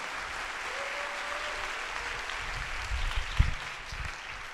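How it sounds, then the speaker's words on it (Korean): A church congregation applauds in a steady, moderately loud wash of clapping, with a few low thumps and a brief murmur of voices near the end. "큰 박수로 한번"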